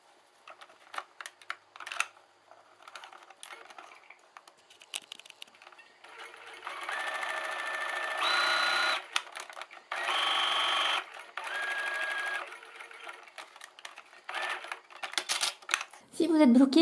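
A sewing machine stitching around the edge of a small fabric bookmark runs in several steady, close buzzing bursts of one to two seconds, separated by short pauses and light clicks, with a voice speaking intermittently.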